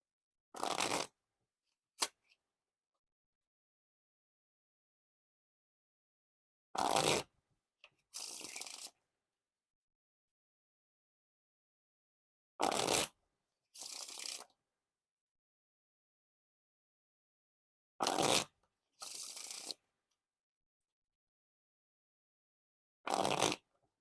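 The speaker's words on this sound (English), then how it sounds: "Now for the riffle shuffle or bridge shuffle." Several separate riffle shuffles of Space Pizza playing cards ring out in a quiet room, each a brief crisp burst of cards fluttering together, followed by a short bridging rustle.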